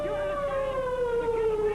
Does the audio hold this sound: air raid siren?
yes